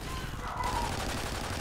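Video game gunfire rattles as a dense, continuous fusillade, heavy and sustained for the full length with no clear gaps between shots.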